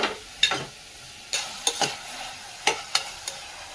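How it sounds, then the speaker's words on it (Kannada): Onion and tomato frying in a pan, a soft sizzle under repeated scraping stirs from a spoon, several distinct strokes at uneven intervals. "ಅದಾದಮೇಲೆ ಈರುಳ್ಳಿನ ಆ್ಯಡ್ ಮಾಡ್ಕೊತಾ ಇದ್ದೀನಿ. ಸ್ವಲ್ಪ ಫ್ರೈ ಆಗಲಿ."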